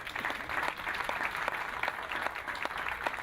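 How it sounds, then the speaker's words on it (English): Moderate applause from an audience at an Armenian Genocide commemoration in Montebello, a steady patter of many clapping hands with a few sharper individual claps standing out. "I think that deserves a round of applause"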